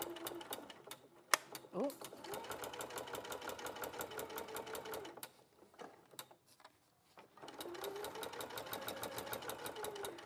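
Sewing machine stitching a 1 cm seam at a long 3.5 stitch length, its rapid even needle clatter running near and steady, pausing briefly twice, with a voice speaking in between.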